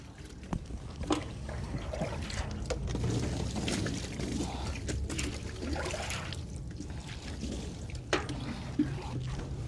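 Water poured over a body on its right side during Islamic ritual washing of the dead, a steady splashing and trickling pour running almost continuously, fairly close, with faint background murmurs.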